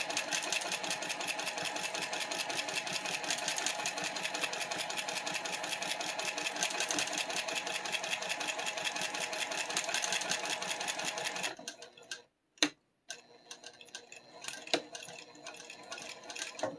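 A hand-cranked sewing machine stitches a seam in a fast, even clatter for about eleven seconds, then stops, leaving a few scattered clicks and knocks.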